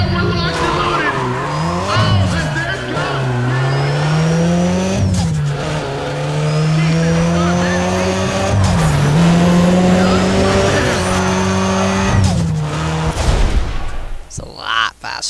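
A Chevrolet Cobalt race car engine in the game Need for Speed ProStreet revs and shifts repeatedly with screeching tire squeals, loud and continuous, with a voice talking over it.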